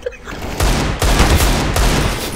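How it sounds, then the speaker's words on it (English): A flashbang grenade going off in a shooter video game, a sharp, loud burst followed by further close, blasting bangs in quick succession with no talking. "Flashbang. 10 out of 10 flash."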